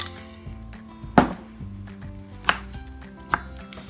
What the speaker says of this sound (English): I can just put the whole thing on the board and just give them a good chop